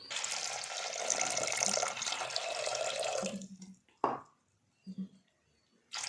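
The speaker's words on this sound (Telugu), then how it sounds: "వన్ అండ్ హాఫ్ గ్లాస్ వాటర్ని వేసుకుంటాము" Water poured into dal in a kitchen pot, a continuous splashing flow for about three seconds that cuts off, followed by a few brief drips and clinks.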